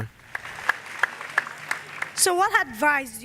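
A church congregation bursts into applause and cheers acclaiming Jesus Christ, opening with a few scattered claps that swell into steady clapping as a voice rises over them.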